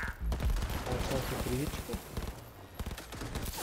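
Bursts of gunfire in Cyberpunk 2077 Phantom Liberty crack repeatedly in uneven volleys, loud and close, mixed with game sounds while someone speaks over them.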